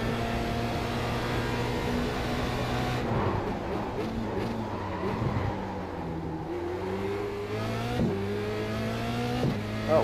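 Formula Renault 2.0 race car in the iRacing game at Montreal's Gilles Villeneuve circuit, an engine whine rising and dropping through gear shifts and braking, with sharp upshifts, steady and close, no talking.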